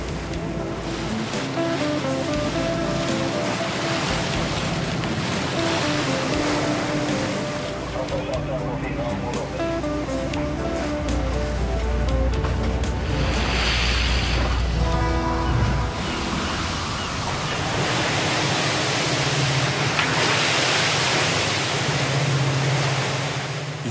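A Danish seine fishing boat pitches through a rough head sea in a northerly gale off Norway, with steady rushing waves, wind and hull noise under a narrating voice.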